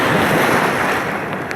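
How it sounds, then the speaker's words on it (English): Ocean surf breaking on a beach where people are playing in the water, a steady loud wash of waves with wind noise across the microphone throughout. "Here comes the waves."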